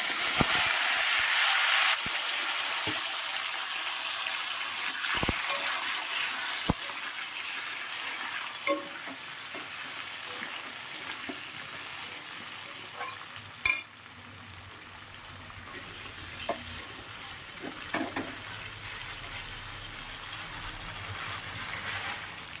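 Sweet potato, papaya and drumstick pieces fry in hot oil in a wok tempered with whole dried red chilies and radhuni for shukto, a loud continuous crackling hiss punctuated by occasional sharp pops and spatula clicks, with no talk.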